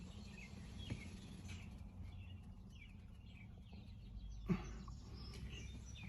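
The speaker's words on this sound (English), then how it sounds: "It's morning here, so you can hear birds chirping." Faint birds chirp and call in the morning near a river, with scattered soft calls over a low, constant outdoor background, no talking.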